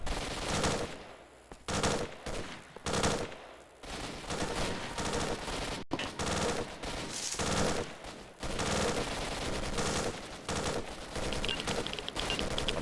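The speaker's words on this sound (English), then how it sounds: "no idea who's shooting at bloody you right now" Gunfire in S.T.A.L.K.E.R.: Shadow of Chernobyl: loud, nearly continuous automatic bursts and rapid shots from several weapons, dense and overlapping throughout, with only brief gaps.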